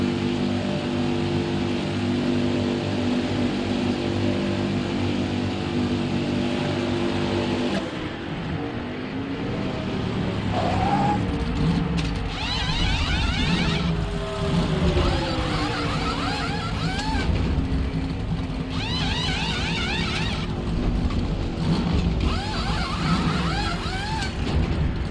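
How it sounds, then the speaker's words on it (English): Pit crew service a stock car during a NASCAR Heat 5 pit stop as engines drone steadily, with whirring rises and passing car sounds layered over a continuous roar. "let's listen to the pit crew do their work."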